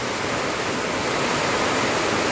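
A powerful, steady roar of river water released from a dam fills the clip, loud and unbroken like a torrent pouring past close by.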